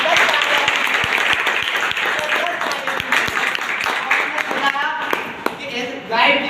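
Audience applause for a guide being thanked at a congratulations event, dense steady clapping throughout with a voice talking over it near the end.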